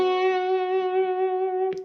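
A sustained, slightly distorted electric guitar note rings out with rich overtones, ending in a brief scrape or pick noise.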